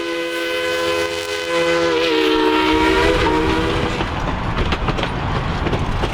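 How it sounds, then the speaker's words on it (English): Durango and Silverton narrow gauge locomotive 493 rolls into the depot with its passenger train, a loud steady horn blast with rising whistle tones over the rumble and clatter of cars, close by. "Durango as 493 arrives with train 262 in tow"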